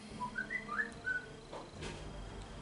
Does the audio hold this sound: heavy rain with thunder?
no